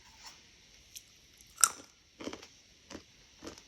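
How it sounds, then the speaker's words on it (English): Crunching and chewing on almonds, close up and quiet, with several separate crisp bites and crunches spaced irregularly and one sharper crack in the middle. "Gonna have a couple more almonds."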